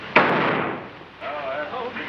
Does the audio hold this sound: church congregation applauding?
no